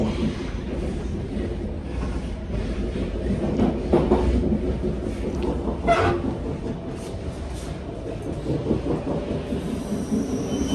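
Rumbling RER commuter train ride toward the Palace of Versailles, heard from inside the carriage as a steady low roar with rattles and clunks of the wheels on the track, no voices.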